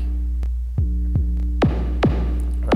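An electronic kick drum played on an AlphaSphere instrument sounds over a steady low hum, with about six deep booming hits at uneven spacing, several showing falling pitch sweeps, loud and close.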